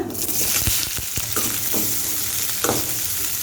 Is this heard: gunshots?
no